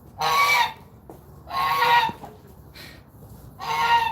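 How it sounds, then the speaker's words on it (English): A goose honks loudly and close by in three separate harsh, nasal bursts, with short quiet gaps between them. "I don't know if you guys speak goose"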